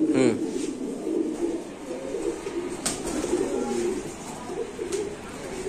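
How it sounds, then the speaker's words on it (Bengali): Pair of tumbler pigeons, white Bombay type, cooing in soft low repeated calls close by, with a few sharp clicks and a burst of wing flaps at the start, under some background talk. "দর্শক এক জোড়া কবুতর দেখাচ্ছি এখন আমরা"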